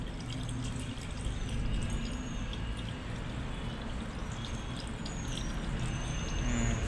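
Water trickles and drains steadily from the engine of a Renault Kwid in a workshop, a faint continuous splashing hiss with no pauses.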